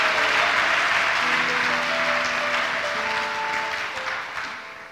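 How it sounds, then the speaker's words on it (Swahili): A church congregation applauding during a bilingual French and Swahili sermon, loud sustained clapping from many hands with sustained musical tones beneath, gradually fading toward the end. "Tumpikie Yesu makofi."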